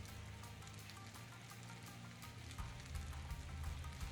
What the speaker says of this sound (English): Add udon and fry on medium heat.